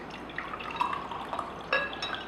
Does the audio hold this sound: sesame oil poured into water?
yes